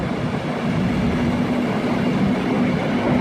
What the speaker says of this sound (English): look what we got here, a GB Rail Freight 73